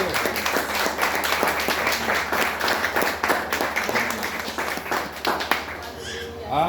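A church congregation applauding during a night service of a prophetic conference, steady sustained clapping filling the room for several seconds with a preacher's voice under it.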